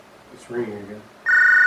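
A telephone rings with a single clear electronic tone that begins at the end, just after a brief spoken voice.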